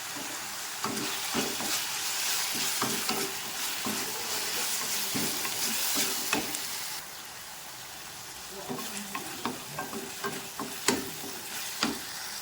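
Food sizzles in a hot pan while salt and curry leaves are sautéed, a steady frying hiss broken by repeated scraping strokes of a stirring spoon, close and moderately loud.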